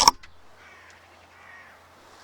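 A hooded crow gives a single sharp caw up close, followed by faint background air and distant noise.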